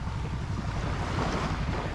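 Sea waves wash steadily onto the shore at Wonokerto beach, Pekalongan, on the north coast of Central Java, under a constant rush of wind buffeting the microphone, loud and continuous with no speech.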